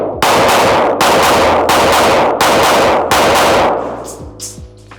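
Loud, close pistol fire from a compact Glock 43X or PSA Dagger Micro: about five sharp shots in a rapid, even rhythm, each leaving a short echo, followed by faint metallic clinks as the firing stops.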